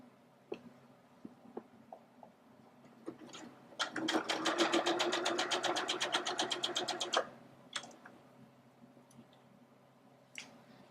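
A sewing machine stitches binding onto a V-neck garment in one steady, fast burst of needle strokes lasting about three seconds, close and clear, surrounded by quiet clicks and handling of fabric.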